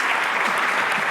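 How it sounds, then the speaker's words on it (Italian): Audience applause at a volleyball gathering, a brief, loud, dense burst of clapping that fills the whole moment. "E un applauso a tutti voi."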